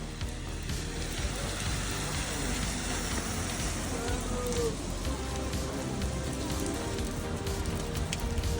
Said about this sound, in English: We found ourselves some shelter from the rain